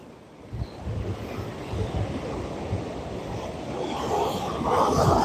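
Ocean surf and wind at a fishing pier during evening surf fishing make a steady broad rush that swells louder toward the end, with no voices.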